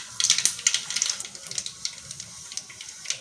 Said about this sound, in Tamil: இதில் 2 கரண்டி கல்லெண்ணெய் சேர்த்துக்கலாம். கொஞ்சமாக கடுகு சேர்த்துக்கலாம்.